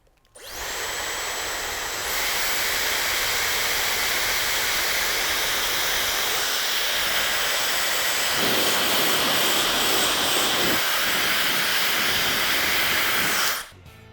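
A counterfeit Chinese Dyson hair dryer runs for about thirteen seconds as a steady, loud, airy whoosh with a high whine, cutting in at the start and shutting off abruptly at the end.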